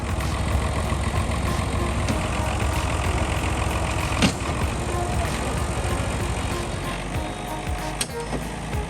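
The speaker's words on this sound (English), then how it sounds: "2 Belarus tractors are trying to pull it out of the beast's jaws." Heavy engines of two Belarus tractors roar and strain continuously at close range pulling a trailer out of mud, a steady low rumble with a couple of sharp clanks cutting through.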